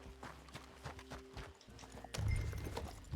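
Horse hooves clip-clop at a steady walking pace in Red Dead Redemption 2, close and fairly soft, with a louder burst of movement near the end.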